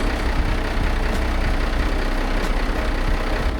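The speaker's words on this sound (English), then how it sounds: "we're listening for a change in engine tone" A steady, low boat engine rumble, run with injector cleaner, idles continuously throughout, close and fairly loud, with no change in pitch and no voices.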